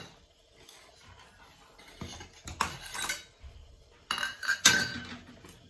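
Puttu mixture of puttu flour being packed into a steaming mould, with a few scraping and clinking bursts of a utensil against metal, close and fairly loud, separated by quieter gaps.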